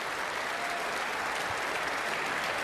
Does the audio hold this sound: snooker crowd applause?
yes